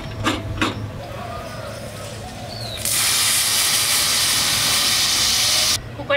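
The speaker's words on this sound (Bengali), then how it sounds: "কুকারের তিনটে সিটি হয়ে গেছে" A pressure cooker cooking dal lets out a loud, steady hissing steam whistle that starts partway through and runs for about three seconds before cutting off, with faint earlier kitchen clatter.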